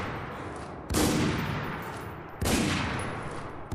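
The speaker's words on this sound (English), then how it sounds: "There's someone I'm shooting at right now." Two heavy bursts of gunfire from a Spec Ops: The Line multiplayer team deathmatch, each a loud broadband blast that trails off, spaced about a second and a half apart over a steady background rumble.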